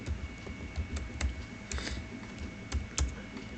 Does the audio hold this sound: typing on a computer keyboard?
yes